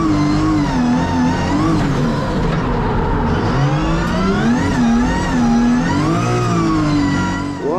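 A Nissan 180SX engine revs hard on a slippery track, rising and falling pitch through repeated acceleration and shifts, loud and continuous throughout with no talk.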